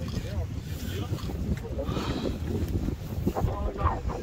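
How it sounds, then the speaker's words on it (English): Wind gusts across Lorne pier on an afternoon of fishing, a steady rumbling buffet against the microphone throughout, with voices chatting underneath. "Oh, it's windy."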